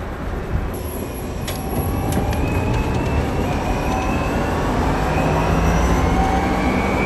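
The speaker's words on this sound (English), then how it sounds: "Look at this, accelerating up the hill" An electric-converted MGA classic car accelerates up a hill. A loud, constant rush of road and wind noise carries thin, rising motor whine tones that climb steadily as speed builds.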